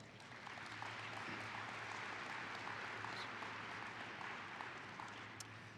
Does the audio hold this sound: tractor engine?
no